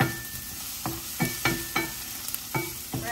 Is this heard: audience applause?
no